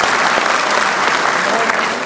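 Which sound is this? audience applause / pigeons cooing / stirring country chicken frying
audience applause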